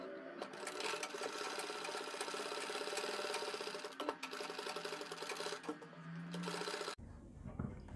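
Sewing machine stitching around the neckline of a suit or kurti, a fairly faint, continuous rapid mechanical whirr with light rubbing of cloth, broken briefly by small clicks before it stops.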